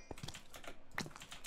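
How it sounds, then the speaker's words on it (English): A loud computer keyboard is typed on in quick, uneven bursts during a Minecraft session, its sharp clicks and clacks close and crisp, with short pauses between flurries of keystrokes. "I don't know if you can hear my keyboard, but it's so fucking loud."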